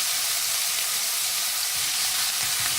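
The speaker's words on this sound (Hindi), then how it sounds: "और इसमें आप कुटा हुआ लहसुन और अदरक डाल दें।" Crushed garlic and ginger sizzle steadily in hot oil for a beef stir-fry, a dense, even, loud hiss with no talking.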